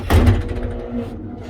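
The door of an antique Otis elevator at Portland's Union Station slams shut with one loud close thud, followed by a fading rumble and a faint mechanical hum.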